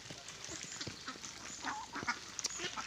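Ducks kept in a flock of six-month-old birds quack in a busy, overlapping chorus outdoors, a steady chattering murmur with a few clearer calls rising out of it, fairly faint and continuous throughout.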